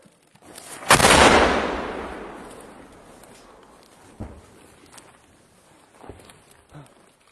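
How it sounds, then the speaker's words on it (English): Loud artillery blast on a battlefield, a sharp close boom with a long rolling decay, followed by several fainter distant thuds and impacts. "Russian soldiers continue the non-stop artillery fire"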